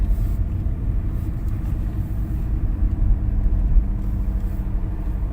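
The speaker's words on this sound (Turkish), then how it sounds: "Biraz gaz pedalına bas." A car's engine hums and rumbles steadily while a driving student presses the gas pedal during a lesson, a low continuous drone with no clear rise in pitch and no talk.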